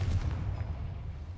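A Confringo blasting spell explodes in the video game Hogwarts Legacy, a deep, rumbling boom that rolls on steadily for over a second with no break.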